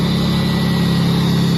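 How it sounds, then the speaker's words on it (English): A Subaru SVX engine with straight-piped exhaust runs steadily at idle, a loud, constant droning hum heard up close with no other sound. "So yeah, the engine actually runs really nice."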